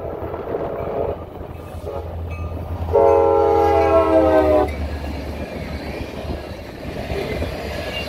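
A CSX freight train rushes past fast, its horn blaring loud and steady for a couple of seconds midway over a continuous low rumble of wheels and cars.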